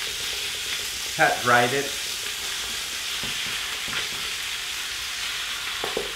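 Beef strips, cut for a beef caldo pho, fry in a pot with a steady, close hiss and sizzle throughout, briefly under a short spoken remark.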